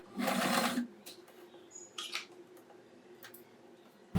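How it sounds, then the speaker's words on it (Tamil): A sewing machine making a short lock stitch to finish a seam gives a brief whirring burst at the start, then faint clicks and handling noises at close range. "நம்ம முடிக்கும் போதும் ஒரு லாக் ஸ்டிச் போட்டு முடிச்சுப்போம்."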